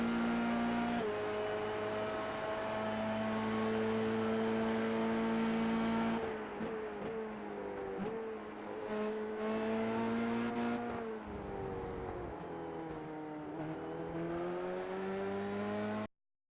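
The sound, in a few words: Dallara F3 race car engine in iRacing video game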